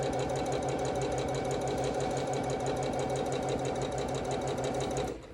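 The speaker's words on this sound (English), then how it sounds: "We're sewing corner to corner." A sewing machine runs fast and continuously while stitching quilt fabric corner to corner, a close, steady whirring rattle that slows just at the end.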